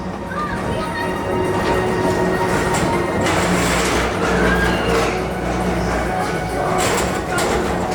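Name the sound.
people mover train rolling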